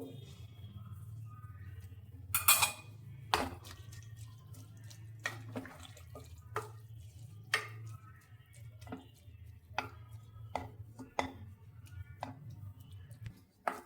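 Water poured into a pressure cooker holding cluster beans and tomato curry, a light splashing trickle with scattered clinks of utensils nearby, no talking.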